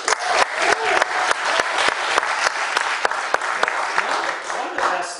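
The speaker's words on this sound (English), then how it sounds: "Give them a round of applause" An audience gives a round of applause for people who have served in the military. Strong, steady clapping from a sizable crowd, with a few crisp individual claps standing out and some voices mixed in.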